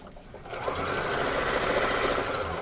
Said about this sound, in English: I'm turning that part to the right and then giving a flat stitch on that side.